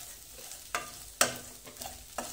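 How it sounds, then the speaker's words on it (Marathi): Moth beans (matki) being sautéed in a pan, a faint sizzle under a few sharp clinks of a spoon stirring against the metal, quiet and close with no talking. "या पद्धतीने मटकी थोडीशी परतून घ्यायची"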